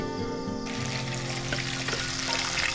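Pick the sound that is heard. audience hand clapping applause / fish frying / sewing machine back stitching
fish frying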